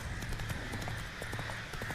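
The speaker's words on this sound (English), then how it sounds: "There's a horse fleeing." Hoofbeats of a horse galloping away in The Witcher 3: Blood and Wine, rapid clip-clop strikes in a steady running rhythm at moderate level against a busy background of game ambience.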